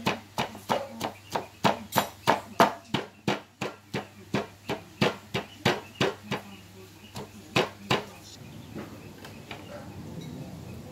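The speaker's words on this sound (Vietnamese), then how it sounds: "Đầm cho nào nó nhuyễn nha mọi người." Chili, lemongrass and tamarind pounded in a mortar for a Khmer tamarind salt dip, a steady run of about twenty sharp, loud thuds in even rhythm that stops near the end, leaving faint background noise.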